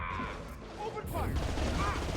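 Gunfire from the Mass Effect video game, on Insanity difficulty, crackles in a dense burst of shots among mechanical clatter and combat effects, with a voice speaking over the action.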